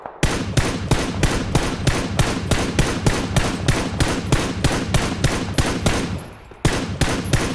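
Rapid automatic gunfire in the PUBG battle royale game, a steady stream of loud, evenly spaced shots with a short pause near the end before firing resumes.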